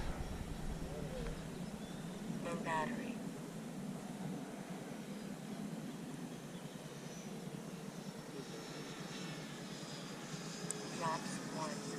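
A Freewing F-22 Raptor 90mm electric ducted-fan RC jet comes in to land at a flying field, its turbine-like whine steady and moderately distant, with people talking over it.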